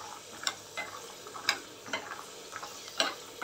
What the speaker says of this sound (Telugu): అల్లం కూడా ఇది వేసేసినాక అల్లం కూడా వేపుకుంటాను